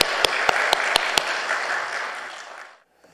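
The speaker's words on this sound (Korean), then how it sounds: "우리 박수로 환영하겠습니다" A church congregation applauds to welcome a visiting pastor at an afternoon worship service: dense, steady clapping with a few sharp louder claps near the start, fading out over about three seconds.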